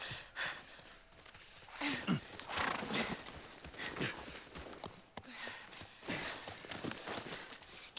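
In The Last of Us Part 1, a horse clip-clops with hooves in an uneven rhythm, snorting and moving nearby at moderate volume, with soft game ambience and occasional faint breathing.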